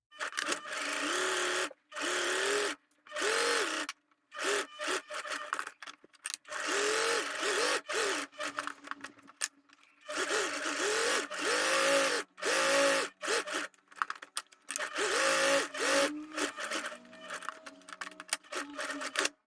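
Domestic sewing machine topstitching fabric around a rectangular edge, a close mechanical whirring hum in repeated bursts of a few seconds each, separated by brief pauses, with no speech.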